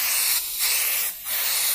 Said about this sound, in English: I'm just touching the trigger, and then if you really want to blast it